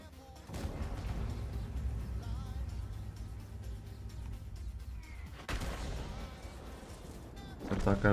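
A tank cannon fires in World of Tanks while playing the T110E5, a heavy boom followed by sustained rumbling battle noise and a second blast, with a voice talking over the game audio.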